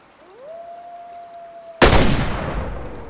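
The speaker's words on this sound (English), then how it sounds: "I shot him. I hit him." A single loud gunshot in the hunting video game Way of the Hunter, fired at a gray wolf with a slug, cracks out suddenly after a steady high tone and trails off in a long, rolling echo.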